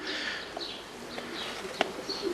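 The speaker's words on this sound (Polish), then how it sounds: "To jest gołąb, co tu oszukiwać." Soft pigeon coos and murmurs sound close by over a hissy background, with a few brief chirps and small knocks.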